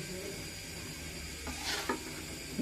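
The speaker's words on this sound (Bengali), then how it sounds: "এখন দমে বসানোর জন্য পাতিলে ছেড়ে দেওয়া হচ্ছে মাংসগুলোকে" Cooked, braised biryani meat goes into a pot to be set on dum: a low steady sizzle, then a brief clatter and scrape of a spoon against the pot.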